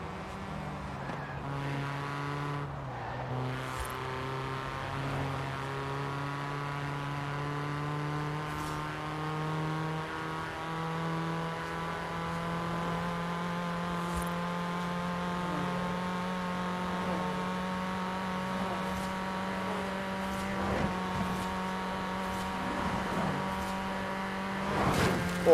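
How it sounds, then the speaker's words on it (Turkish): A real car's engine, driving a racing video game, holds a steady revving drone with rising harmonics that climb slowly over about 25 seconds, fairly faint with occasional clicks and no talk. "Gerçek hayattaki arabanla gazlıyorsun oyunda."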